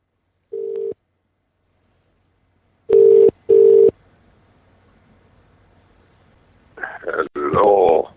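Telephone ringing tone on a live late-night call-in show: three short, steady, loud tone bursts with a pause after the first and a quick pair following, then faint line hiss before a voice answers.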